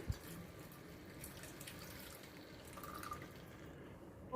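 Boiled tea decoction poured into a pot of chole for Chole Bhature, a faint steady liquid trickle and dripping at low level with a small splash at the end, no talking.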